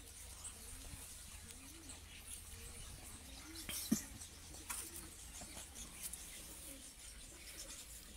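Migratory pigeons coo softly and repeatedly at a distance over steady low background noise, with a brief louder rustle or knock partway through.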